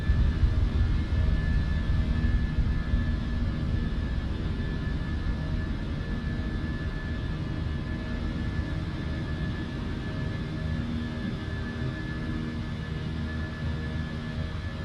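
United Airlines A320 jet climbing after takeoff in the MSFS 2024 flight simulator, a steady broad engine roar with a low rumble and a faint high whine, holding constant and loud throughout with no talk.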